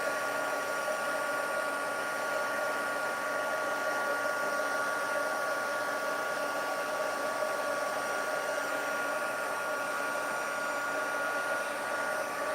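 A heat embossing tool blows hot air in a continuous, steady whirring hiss with a high whine, close by and unchanging throughout.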